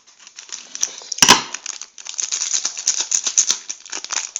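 Scissors cut open a Champions League 14/15 sticker packet: a sharp snip, then a run of close, crisp foil crinkling and rustling.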